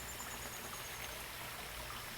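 A shallow stream of moving water in a garden, heard as a steady soft rushing and trickling wash, continuous and even with no voices.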